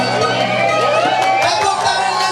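Guests at a Dayak Maanyan traditional wedding cheering and clapping, loud and continuous, with music and tonal voices layered in the crowd noise.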